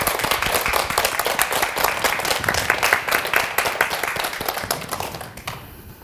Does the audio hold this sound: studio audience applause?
yes